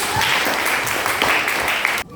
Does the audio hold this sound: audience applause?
yes